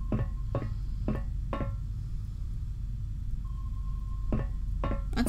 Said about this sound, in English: That's a sonar, definitely.